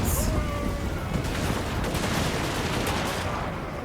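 Dwarven Thunderers fire a gun volley in a Warhammer battle game, a dense crackling fusillade of many overlapping shots, loud and continuous throughout amid battlefield noise.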